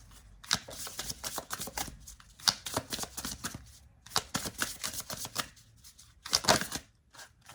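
Tarot cards shuffled close up in quick papery riffling bursts, separated by brief pauses, with no one speaking.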